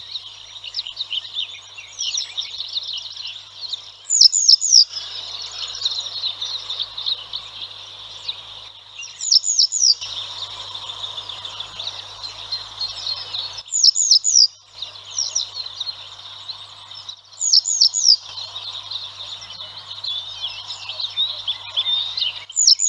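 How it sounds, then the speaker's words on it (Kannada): A white-browed wagtail calls in repeated bursts of bright, whistled chirps, each phrase a few seconds long and separated by short pauses, clear and fairly close over a faint low background hum. "ಈ ಪಕ್ಷಿಯ ಒಂದು ಕರೆಯನ್ನು ಕೇಳಿಸ್ಕೊಳ್ಳೋಣ ಅಲ್ವಾ?"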